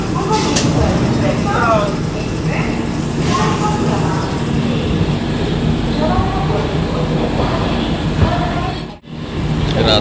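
A passenger train leaving Vijayawada station rumbles with a steady, continuous roar from inside the carriage, while people talk over the constant noise throughout.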